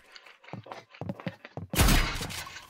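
A gunshot rings out in the Roblox game Rivals, a loud broadband blast with a noisy tail arriving after a run of short, muffled thuds and soft clicks.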